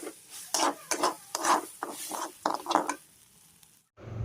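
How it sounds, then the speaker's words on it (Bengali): Washed rice is fried in ghee in a pan for biryani, giving a string of close, raspy scraping and stirring strokes with a light sizzle. It stops abruptly near the end, when a low rumble begins. "চালটা খুব ভালো করে ভাজা নিলাম"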